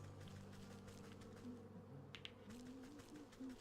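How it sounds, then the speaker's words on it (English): Steady, continuous buzzing of bees in the video game Wytchwood, droning at a constant level, with a few soft clicks along the way. "Oh, I hear the bees."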